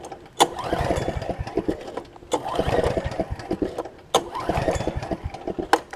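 A Snapper rear-engine riding lawn mower's engine cranks over in three repeated attempts, each a rapid, close, chugging starter whir that stops without the engine catching.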